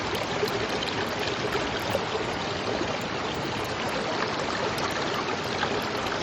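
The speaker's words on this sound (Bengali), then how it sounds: "আমরা এখন জোনা ফলসে এসেছি।" Water rushes at Jonha Falls in an even, dense roar that holds steady at full strength with no pauses and no voices.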